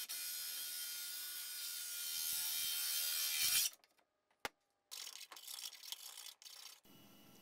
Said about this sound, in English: So then I just take a hole saw and drill the sound hole out quick.